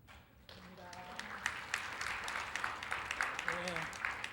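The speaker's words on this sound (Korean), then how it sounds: "박수를." Congregation applause at a church Sunday school infant-department graduation, steady clapping from a crowd across the whole span after a quiet start, with a voice and faint tones briefly over it.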